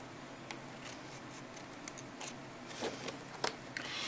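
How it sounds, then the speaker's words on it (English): Snips cut small notches along the 8.5-inch side of cardstock for a self-closing box, several faint, quick clips scattered over a quiet background. "grab your snips and take out these 2 little notches"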